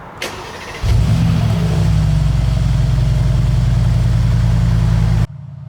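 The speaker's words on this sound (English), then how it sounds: "the V8 bi-turbo in the G63 also has its unique, distinct sound" A Mercedes-AMG G63's V8 bi-turbo engine fires up for its first start, a sharp crank and loud bark that settles into a deep, steady rumbling idle close by, then cuts off abruptly.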